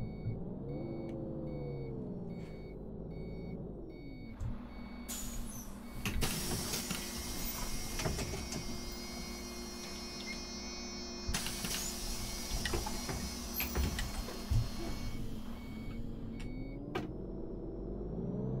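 IVECO low entry bus in OMSI 2, its engine humming under rising and falling tones, then door mechanisms whirring and beeping as passengers board at a stop, with a continuous mechanical drone.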